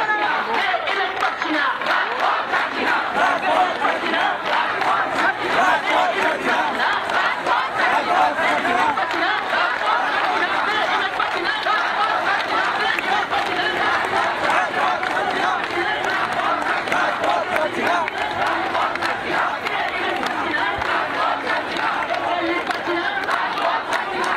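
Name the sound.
dismissed teachers chanting slogans at a street protest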